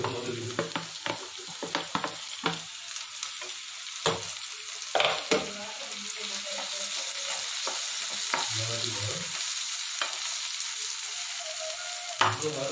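Tomatoes frying in a pan with onions already cooked to a deep brown, a steady hiss of sizzling oil broken by repeated scraping and stirring knocks, close and fairly loud, with no voices.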